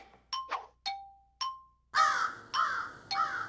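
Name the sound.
crows cawing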